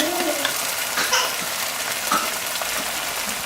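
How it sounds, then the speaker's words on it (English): Onion, garlic and ají amarillo pepper paste sautéing in a pan give a steady, close sizzle and crackle that runs the whole time, with a few faint scrapes of stirring. "And let that saute."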